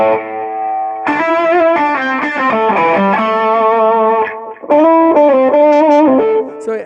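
An electric guitar runs through a pedal board into heavy distortion, playing loud sustained notes and shifting chords with a thick effects sheen. A brief dip in level comes before the playing resumes.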